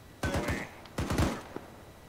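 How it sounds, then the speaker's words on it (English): Gunfire during a convoy operation, two quick bursts of several loud sharp shots each, close and rapid, with a brief gap between them and a lone fainter report trailing after. "let him know we're taking fire"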